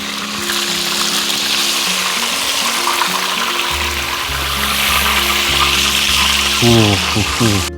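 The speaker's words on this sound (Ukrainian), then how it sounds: "карасики посмажились, поки приберемо їх" Crucian carp sizzle and fry steadily in hot oil in a pan, a loud continuous crackling hiss that runs through to the end, with a brief clatter near the close.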